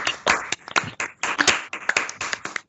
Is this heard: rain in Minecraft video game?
no